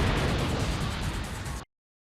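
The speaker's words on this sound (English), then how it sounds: "well, that was the most anticlimactic explosion I've ever seen." A bomb explodes in a Spider-Man video game, a loud, sustained roar of rumbling noise that cuts off abruptly into silence.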